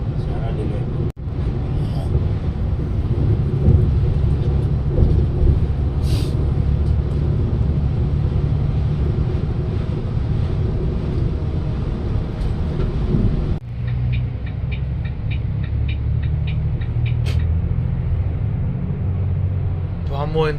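Steady low rumble of a Volvo 9600 AC sleeper bus in motion, heard from inside the cabin, with continuous road and engine drone, a brief dropout near the start and a shift in tone partway through.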